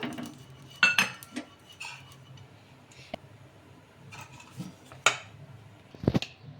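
A frying pan set on the stove for instant bun dosa, with oil applied: scattered metallic clinks, scrapes and taps of pan and utensil, close and intermittent, with no talk.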